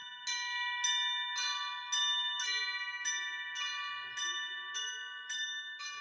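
Students at a school play chimes, sounding about ten evenly spaced bell strikes whose bright ringing tones sustain and overlap, clear and fairly close.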